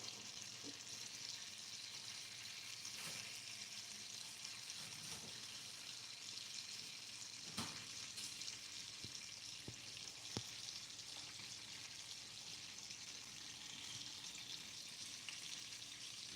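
Salted butter frying in a pan, a steady soft sizzle with faint crackles and occasional small pops, continuous and close, with no talk.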